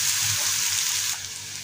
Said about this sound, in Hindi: प्याज को बढ़िया गोल्डन होने तक हम फ्राई कर लेंगे।